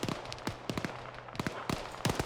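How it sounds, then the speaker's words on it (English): Explosion from a Maz round in a competitive multiplayer video game match: a cluster of sharp cracking bursts and pops in quick irregular succession, moderately loud, with no voices. "Gorksky fired a Maz round. You can tell by the type of explosion it makes"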